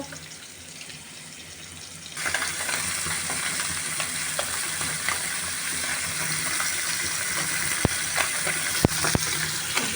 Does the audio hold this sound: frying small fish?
yes